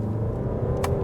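VW Tiguan 2024 R-Line 4Motion SUV with a 193-horsepower diesel, accelerating in sport mode: a steady low engine rumble, loud and close inside the cabin, with a short brighter swell near the end.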